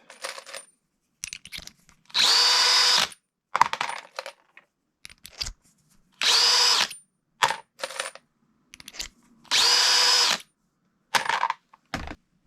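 A power trimmer cuts 300 Blackout brass cases to length in three separate whirring bursts, each about a second long, with the clinks of brass cases being handled and set down in between, close up and without talking.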